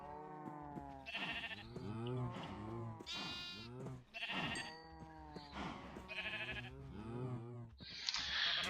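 Minecraft sheep bleat again and again, overlapping wavering cries filling the stretch almost without pause, fairly loud and close.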